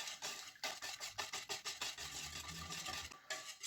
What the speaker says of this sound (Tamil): இந்த மாவை நல்லா மிக்ஸ் பண்ணிக்கொள்வோம்